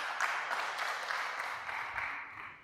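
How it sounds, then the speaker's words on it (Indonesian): A parish recollection gathering at Santa Maria Immaculata in Mataram breaks into brief, faint applause from a small audience, a soft, even patter that fades out within a few seconds. "Tepuk tangan dulu untuk Ibu."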